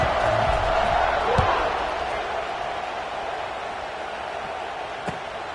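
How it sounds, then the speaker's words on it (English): A college football stadium crowd buzzes after a score, a broad steady roar that slowly eases, with a few sharp thuds and an announcer talking over it. "this crowd is buzzing after that last score"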